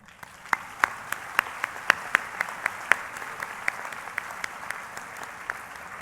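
At a college commencement ceremony, a crowd claps for the magna cum laude graduates. Sharp, loud individual claps ring out over a softer bed of scattered clapping that thins toward the end.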